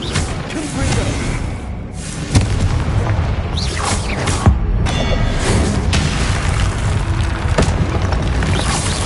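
Explosive spell Confringo in the video game Hogwarts Legacy, heard as repeated deep booms and thuds over a dense, rumbling game soundscape, with sharper blasts standing out partway through.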